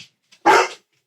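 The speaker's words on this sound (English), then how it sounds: "Apparently I have some excited dogs." Excited dogs bark nearby, one loud, sharp bark burst followed by the start of another, with quiet gaps between and no talking.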